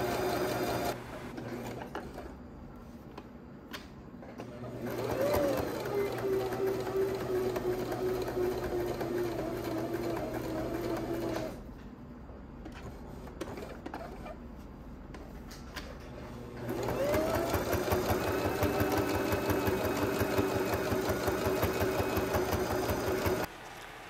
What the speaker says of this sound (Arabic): ونخيط بشويش.